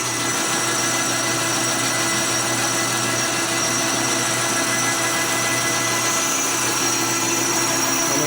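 Lathe turning down a 39mm Harley fork slider with a light cut, a steady loud machine whir and hum with a grinding cutting hiss running continuously throughout, no talk.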